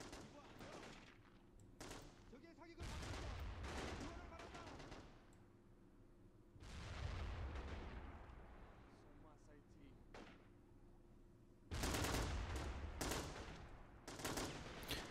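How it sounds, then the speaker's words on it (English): Mortar blasts and machine-gun fire rattle through a coastal fort siege in Men of War Assault Squad 2, with dense bursts of automatic fire and heavy thumps coming in waves, under a voice at times. "More mortars dropping down on their heads."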